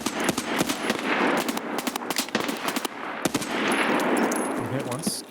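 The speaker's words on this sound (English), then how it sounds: "Oh, I'm being shot at." Gunfire in the shooter game Escape from Tarkov: rapid bursts of automatic fire crackle loudly and close throughout, with voices talking over the shooting.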